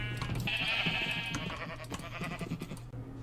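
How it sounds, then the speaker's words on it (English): Sheep bleat in the game Minecraft, one long wavering bleat standing out over a steady low hum and busy background game sounds, followed by fainter bleats and clicks. "I did get some sheep, so let me just breed them up real quick."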